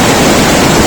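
Río Grande de Vischongo flows past in a remote valley, a loud, steady broadband rush of river water filling the whole moment with no voices.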